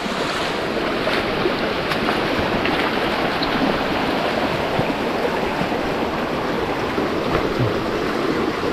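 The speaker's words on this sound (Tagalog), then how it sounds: "lakas na ng tubig dito" Strong floodwater from a typhoon, surging and rushing without a break at close range, a loud, steady roar with gusty wind noise across the microphone.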